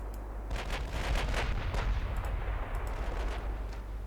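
Secondary battery naval gunfire in Ultimate Admiral Dreadnoughts, a dense rumbling barrage of repeated booming shots over a steady low roar, loud and continuous without talk.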